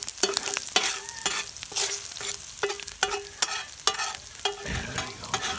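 Elk meat sizzles and fries in a Dutch oven while a utensil scrapes and stirs it in regular strokes, close and fairly quiet.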